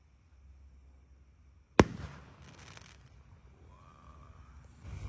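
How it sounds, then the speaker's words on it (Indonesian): A firework rocket launches at night with one sharp bang, then a whooshing hiss and crackle as it rises, heard fairly far off against quiet background noise. "Roket siap meluncur."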